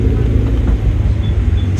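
A Subaru BRZ rolls out slowly at a Cars & Coffee meet, its engine giving a steady, deep, close rumble throughout, with faint voices in the background.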